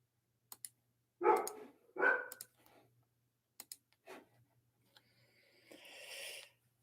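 Two short barks from a dog some distance away, with scattered faint clicks and a brief hiss afterward.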